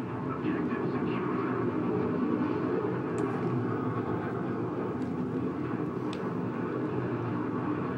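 Steady, dense mechanical drone of a helicopter in the video game Battlefield, with whirring rotor noise, loud and continuous throughout, with a few faint sharp clicks.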